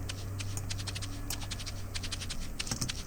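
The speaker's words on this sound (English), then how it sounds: "This is just a shaker" A simple shaker loop ticks in a steady, fast rhythm of short, bright shuffles over a low, constant hum, moderately quiet and alone without any voice.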